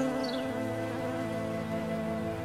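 Honey bees work yellowing rapeseed flowers in spring, a close, continuous humming drone with a steady pitch and a faint rising whine near the start, heard alone without talk.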